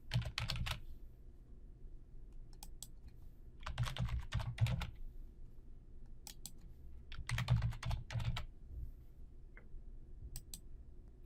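A username and password are typed on a computer keyboard in short bursts of clicky keystrokes separated by quiet pauses, close and fairly soft with no speech.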